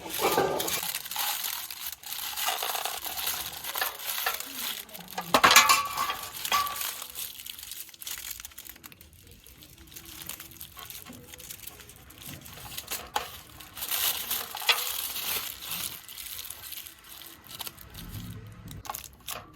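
Foil is crinkled and crumpled around a chicken leg piece for tandoori kabab, with irregular rustling bursts and a louder crunch partway through, heard up close and without speech.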